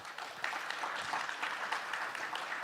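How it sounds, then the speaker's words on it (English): An audience at a G20 side event on financing disaster risk reduction applauds its speakers, a brief burst of steady, moderately loud clapping from a room of delegates. "A round of applause to all of our speakers."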